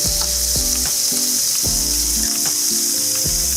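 Garlic and onion frying in mustard oil with fish, a loud, dense sizzle over a low electrical hum, with scattered stirring clicks and no talk.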